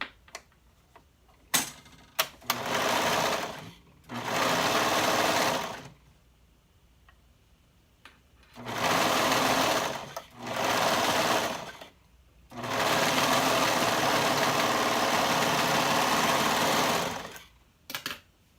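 A sewing machine sews the arm-side seam of a tank bodice in several separate bursts of rapid whirring stitching, each lasting a second or two up to about five seconds, with quiet pauses and small clicks between runs.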